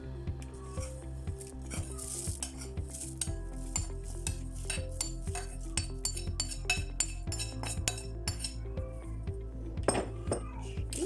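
Steady mixing of oatmeal cocoa cookie dough in a bowl with repeated clinks and scrapes of a utensil against the sides, rhythmic and close, with no talking.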